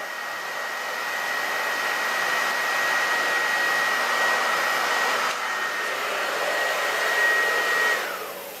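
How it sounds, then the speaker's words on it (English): A hairdryer set on hot blows with a loud, steady whoosh and a faint high motor whine, running alone for several seconds before winding down at the end. "Here's the hairdryer."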